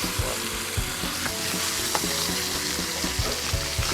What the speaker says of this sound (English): I'm just going to put the fish. Look at the sear.